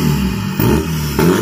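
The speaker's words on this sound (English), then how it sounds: "Let's hear this exhaust." A VW Golf TDI turbo diesel with a new full exhaust revs up close and loud, with the engine note stepping up in two quick surges within about a second and a half.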